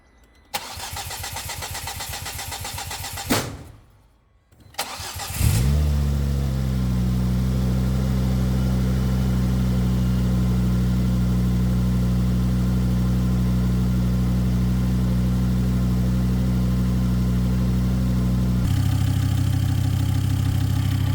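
A Ford XR5 4x4 Turbo car engine cranks over briefly, pauses, then catches and settles into a loud, steady idle that continues for over fifteen seconds, with a slight rise in pitch near the end; no one speaks.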